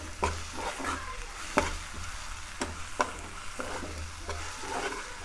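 Ginger garlic paste, chopped tomatoes and chillies stirred in a pan, with a steady soft sizzle under repeated sharp scrapes and clacks of the spoon against the metal.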